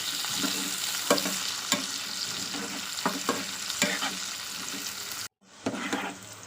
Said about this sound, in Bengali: প্রথমে তেল দিয়েছি দিয়ে পেঁয়াজটা ভাজা করে নিচ্ছি